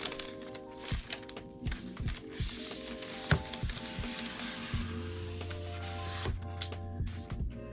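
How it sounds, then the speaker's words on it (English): Plastic wrap being peeled off a new iPad Air 4, with crinkly rustling and scraping up close, a few sharp crackles, and faint tonal hum underneath. "So let's take the plastic out."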